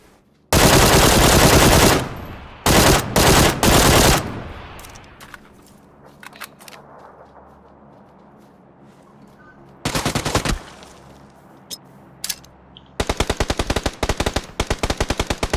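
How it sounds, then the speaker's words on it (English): In PUBG, friendly automatic gunfire rips out in loud bursts near the start, again around ten seconds, and in a rapid string at the end, with quieter gaps and scattered single shots between. "Friendly fire"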